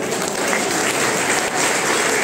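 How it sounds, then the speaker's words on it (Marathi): Dense, loud applause from a large audience at a community prize ceremony in Mumbai, continuous many-handed clapping throughout with no pauses. "जोरदार टाळी वाजवतो"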